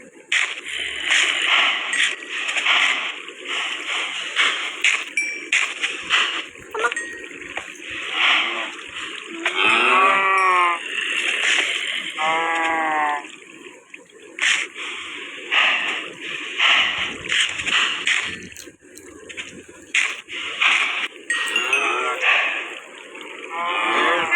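Cattle moo repeatedly in a blocky farming video game, loud drawn-out moos among splashy water-like and whip-like game sounds, with no talking.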